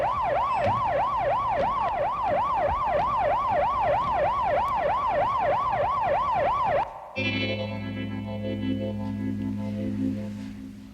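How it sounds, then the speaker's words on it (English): An ambulance siren wails loud and close in a steady rising and falling cycle, then switches to a different, harsher tone near the end. "This is probably the ambulance."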